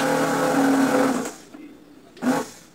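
A 500-watt Arno blender motor with a faulty armature runs loudly for over a second, then cuts out, followed by a brief second burst of whirring.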